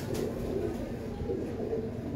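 Breeder pigeons cooing at close range, soft low murmuring calls repeating under steady background noise with faint voices.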